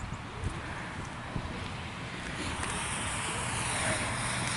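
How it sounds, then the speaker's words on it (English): Steady wind after a thunderstorm blowing across the microphone on the Empire State Trail in New York, a continuous broadband rush that swells slightly in the second half, with no voices. "it's getting a little windy out again."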